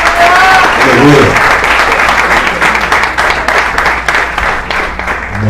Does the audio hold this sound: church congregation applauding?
yes